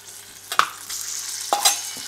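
Minced meat hits a hot oiled pan and sizzles, with a couple of sharp scraping stirs of the pan, close and moderately loud over a steady frying hiss.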